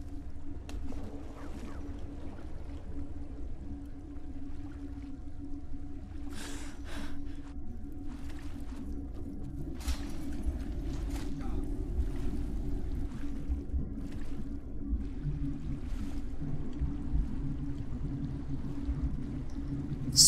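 Splashing water in Skyrim, a steady low sloshing and lapping with a few sharper splashes and swirls scattered through, near and moderately loud, with no talk over it.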